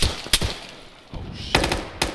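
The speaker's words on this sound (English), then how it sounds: "Taking fire from the south." Distant machine-gun fire in Arma 3, a few short sharp bursts and thuds spaced across a brief stretch, with no talk.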